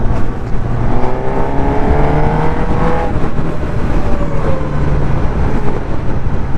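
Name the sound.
Suzuki Katana 1000cc motorcycle engine with quick shifter and blipper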